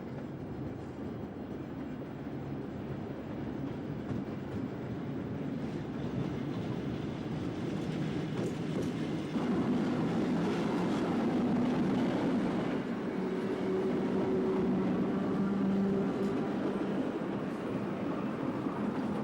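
Six-car swing door suburban trains run on Melbourne's St Kilda line during a 1973 evening peak, a steady rumble with rolling wheel noise and brief tonal squeals, constant and fairly close for the whole stretch.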